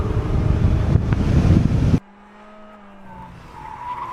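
A race car on a circuit track swings through a corner, engine roaring loudly for two seconds, then cutting off abruptly into quieter wind and a thin tire squeal as the tires slide and heat up.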